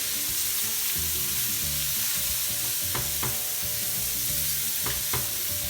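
Onions and mushrooms fry in a pan with a loud, constant sizzle and crackle, broken by a few sharp scrapes and clicks as a utensil stirs them.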